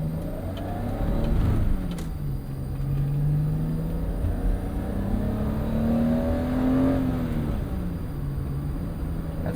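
A 1987 BMW 325is E30 with a five-speed manual and an inline-six engine pulls along the road, its interior drone rising and falling through the revs, loud and continuous, with no talking.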